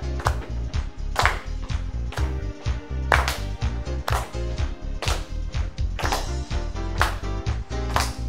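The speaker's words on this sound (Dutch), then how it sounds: "eerst maar eens even een beetje meeklappen op het ritme van de muziek" Hands clap in time to upbeat music during a seniors' exercise session, sharp regular claps repeating along with the beat, mixed with the backing track.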